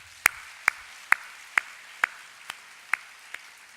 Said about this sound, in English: please join me in applause to offer our heartiest congratulations to all graduates today